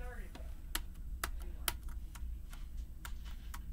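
A cheap $20 Walmart computer keyboard clicks as keys are pressed one at a time, about a dozen sharp, close taps at an uneven, deliberate pace over a low background hum.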